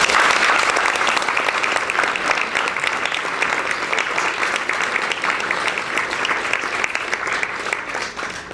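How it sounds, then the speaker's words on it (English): A studio audience breaks into a big round of applause for a volunteer who comes up to help fold paper airplanes: dense, sustained clapping that holds steady for the whole stretch and tapers slightly at the end. "big round of applause"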